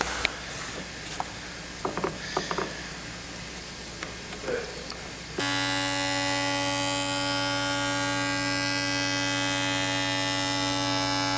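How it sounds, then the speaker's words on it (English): A jointer machine runs on veneer edges. A few light clicks and knocks come first, then the motor starts into a loud, steady whining hum with strong tonal drone that holds unbroken to the end. "Run it over the jointer"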